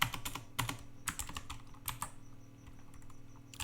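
Someone typing code on a computer keyboard, rapid close clicking keystrokes in uneven bursts with brief pauses, no speech.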